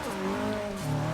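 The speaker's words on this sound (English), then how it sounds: "There is much wheel spin." Engine of a Maserati Tipo Birdcage racing car in Forza Motorsport 6 during wheel spin, a loud sustained engine drone with shifting pitch and a tire-scrubbing roar, heard alone and close.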